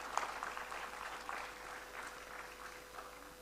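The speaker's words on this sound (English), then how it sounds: "Kindly keep the applause going." Audience applause at the World Petroleum Technology Congress 2022, a steady, moderately dense patter of many hands clapping that carries on evenly throughout, with a faint constant hum underneath and no talking.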